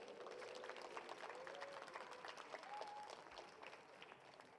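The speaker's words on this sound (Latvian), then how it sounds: "Aplausi!" Crowd applauding at a sports club award ceremony as medals and prizes are handed out, steady clapping with a few brief whistle-like tones on top, easing slightly toward the end.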